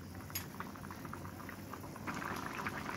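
Curry gravy with potato, pointed gourd and papaya bubbling in a pot, a soft steady simmer of small pops and crackles, fairly quiet and close with no talk.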